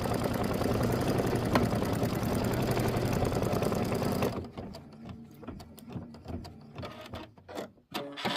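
A sewing machine tacking down a butterfly quilt block runs in a fast, steady mechanical whir for several seconds, then slows into short, uneven bursts of stitching.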